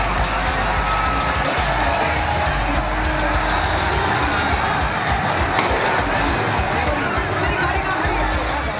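A dense, roaring crowd during the Delhi riots, continuous loud shouting and commotion filling the scene without pause, with speech mixed into the din.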